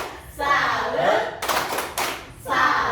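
Children in a classroom perform the 'tepuk salut' clapping routine: a few seconds of crisp, rapid hand claps burst out mid-clip, with children's chanting voices before and after.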